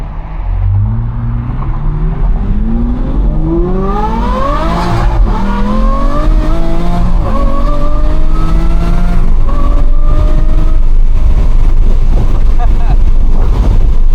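An Aston Martin V12 Vantage revs and accelerates hard through several gear changes, its V12 note climbing in rising sweeps and dropping at each shift, loud and close with steady wind and road roar, and a voice talks over it at times.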